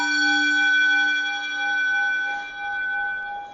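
A gong struck once to open a morning session rings out with a long, steady, shimmering sustain that slowly fades, close and fairly loud with no talking.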